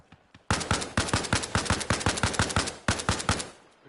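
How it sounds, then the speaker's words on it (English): Rapid gunfire in a PvE military shooter game: a loud, close burst of about two dozen sharp shots in quick succession, with brief pauses between volleys and a few faint shots at the start. "Where them shots coming from?"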